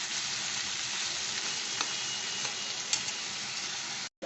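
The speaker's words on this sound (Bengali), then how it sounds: "পেঁয়াজটা একটুখানি ভাজা ভাজা হবে" Sliced onion sizzling steadily in a hot pan while cooking chicken dak bungalow, a dense continuous crackle with a few brief stirring clicks before cutting off abruptly at the end; no voices.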